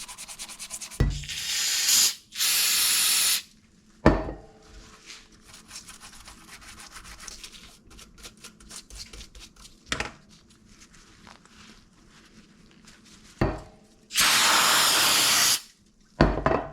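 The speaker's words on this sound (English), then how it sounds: "we're going to clean up everything else with some brake cleaner here" Bursts of brake cleaner spray hiss onto Honda CRF450R motorcycle brake caliper parts in several loud, steady blasts a second or so long, with quieter scrubbing and handling sounds between them.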